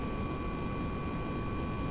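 A propeller plane in the Stunt Island flight game drones past in a steady, fairly faint broadband hum with a constant engine tone, no speech over it.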